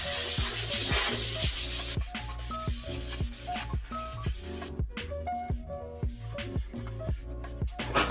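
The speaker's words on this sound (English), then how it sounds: "sand it away with 220 grit sandpaper" Sandpaper of 220 grit rubs over a primed 3D-printed Mandalorian helmet in a long run of close, rhythmic scraping strokes, each one a short rasp repeating at a quick, even pace.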